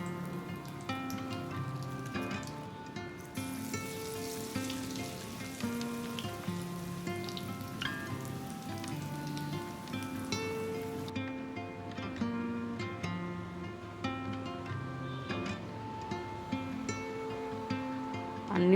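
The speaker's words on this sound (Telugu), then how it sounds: "అన్ని వంకాయలను ఇలా ఫ్రై చేసుకోవడమేనండి." Battered brinjal bajji deep fry in hot oil with a steady, crackling sizzle like rain, which runs throughout beneath background music.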